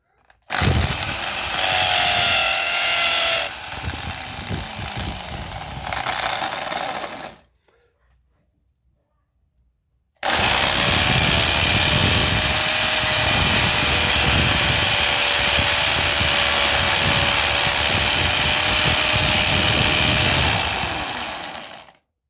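A 40-year-old Bosch drill runs loud and close in a long continuous whine, stops for a few seconds of silence, then starts again and holds steady until it winds down at the end.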